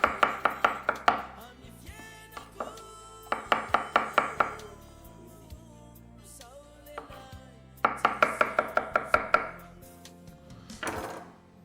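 Garlic cloves are pounded in quick bursts of six to eight sharp, hollow thuds, with pauses between rounds and faint knocks and scrapes in the gaps.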